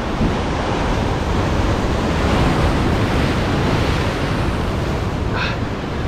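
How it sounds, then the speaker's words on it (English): Ocean waves surge and break against rocks along the Hawaiian shore while fishing, a continuous loud roar of white water mixed with wind buffeting the microphone, with no one talking. "Okay, wait for the wave."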